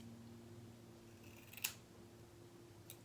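Scissors cut hair in a single crisp snip at a home haircut for bangs, quiet and close, with a fainter second snip a moment later.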